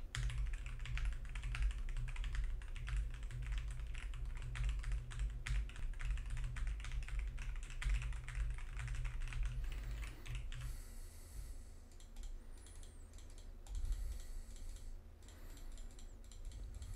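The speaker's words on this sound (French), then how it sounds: "Je vais maintenant passer au test avec le clavier et la souris" Steady rapid typing on a computer keyboard, close and fairly loud, with a few clicking mechanical sounds near the end that could be mouse use; no talking.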